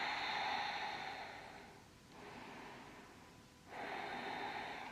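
Slow, deep breaths taken while holding a high crescent lunge in a yoga session, soft airy inhales and exhales close by with brief quiet pauses between them.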